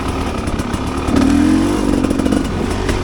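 A Rieju Ranger 300 two-stroke dirt bike fitted with an FMF Gnarly pipe lugs under load in third gear, its loud, steady low engine note rising slightly midway, heard up close with no talk.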